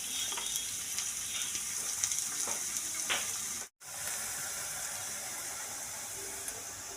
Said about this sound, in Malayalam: ചെമ്മീൻ ഇത് സവാള നല്ലോണം ഒന്ന് വഴയട്ടെ